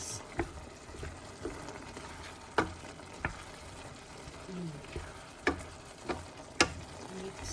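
Humba being stirred in a frying pan, oil sizzling steadily under scattered clicks and scrapes of a utensil against the pan, close and fairly quiet.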